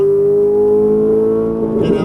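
Ferrari 458 Italia engine holding a steady, loud tonal drone on a track as the driver comes off the throttle to brake, with a brief rougher burst near the end.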